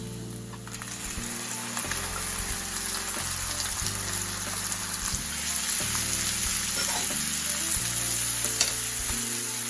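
Kimchi hits a hot pan over already browned ingredients, giving a loud, steady sizzle and crackle throughout, with the occasional scrape of stirring and no talk.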